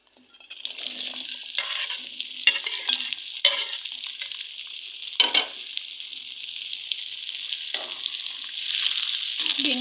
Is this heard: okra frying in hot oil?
yes